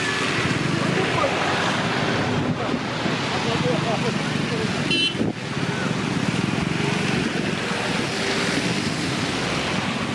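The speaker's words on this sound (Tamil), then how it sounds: "அடையாறு ஆக்ரோஷமாக பாய்ந்து கொண்டிருக்கின்றது." The flooded Adyar river surges fiercely after Cyclone Fengal, a loud continuous roar of rushing water with wind buffeting the microphone throughout.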